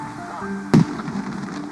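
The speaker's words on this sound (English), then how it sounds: "When they land, a cannon shoots a net into the air." A cannon fires a bird-catching net into the air outdoors, one short, sharp bang that cracks out midway against a quiet background murmur.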